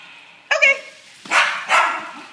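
Pet dogs worked up during play bark sharply at close range, one bark followed by two louder overlapping barks in quick succession, loud and clear with no talk over them.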